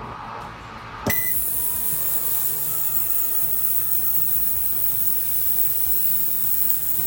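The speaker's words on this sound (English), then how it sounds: "So there's a fan running. You can hear that when I first turned it on." An appliance's electric fan switches on with a sharp onset after a brief lead-in and keeps running as a steady, loud, broadband whir with a faint underlying buzz, heard alone.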